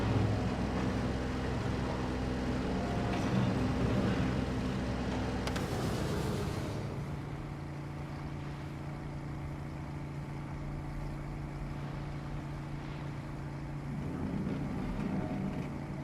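Boat engine in the crab-fishing game Claws In Contract, a steady droning hum running throughout, louder and rougher for the first several seconds before settling into a smoother, quieter tone, with no voices.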